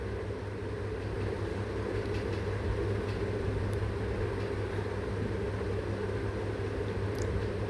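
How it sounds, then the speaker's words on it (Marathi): Karanji pastries frying in hot oil, a steady, dense sizzle and bubbling hiss that holds evenly throughout at moderate volume, with no voices. "ज्या करंजा बनवून घेतलेल्या आहेत त्या आपण तेलामध्ये सोडून घेणार आहोत"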